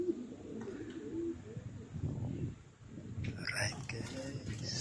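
Racing pigeons coo softly at the loft, low burbling calls under someone speaking quietly nearby, with faint rustling and a few sharper bird sounds near the end.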